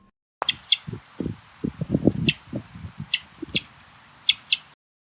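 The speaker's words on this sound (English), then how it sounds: "Their call is chup, or a doubled chup chup, resembling a blackbird." A hermit thrush gives a few short, low chup calls, some of them doubled, spaced out against a quiet background along with sharp higher chips and light rustling.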